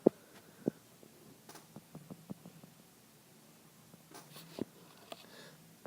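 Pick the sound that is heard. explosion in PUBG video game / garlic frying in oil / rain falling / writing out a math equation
writing out a math equation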